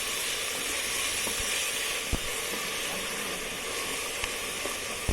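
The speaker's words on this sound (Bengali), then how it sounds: "চালগুলো এবার এর মধ্যে দিয়ে ভাজা ভাজা করে দিচ্ছি সামান্য একটু।" Rice and vegetables frying inside a rice cooker give off a steady, even sizzling hiss that runs unbroken from start to finish, with a few faint clicks and no voices.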